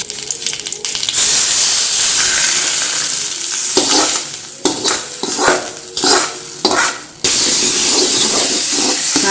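A hot tempering of mustard seeds and curry leaves in coconut oil poured into cooked jackfruit, giving a loud, close, hissing sizzle with bursts of stirring and spattering that rise and fade unevenly.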